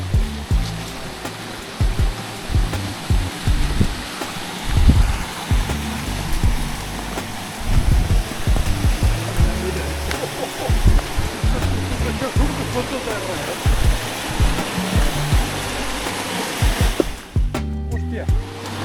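Water pours steadily at the Font de la Saiola spring, a constant close rushing splash with low thumps and occasional voices mixed in, cutting off abruptly near the end.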